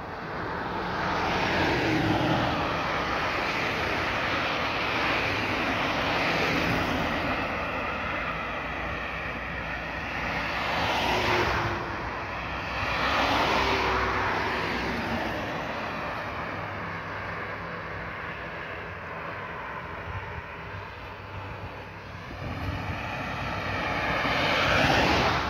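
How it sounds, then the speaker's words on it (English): Large power-company generators run continuously in Coverley, Christ Church, Barbados, a broad steady roar that swells and eases slightly in waves, heard from a moderate distance with no voices. "the generators for the Barbados Air and Power Company"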